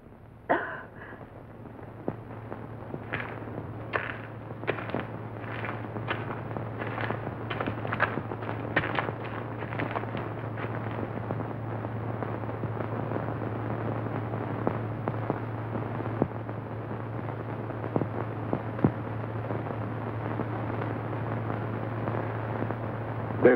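Explosions in a 1966 horror science-fiction film, a run of sharp bursts and crackling blasts over a steady low rumble, loud and continuous throughout.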